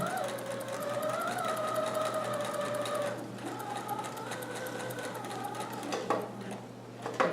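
A sewing machine runs close by, stitching a seam on a Hawaiian shirt made from Simplicity pattern 3852. It whirs steadily, pauses briefly, then runs again, with a few small clicks near the end.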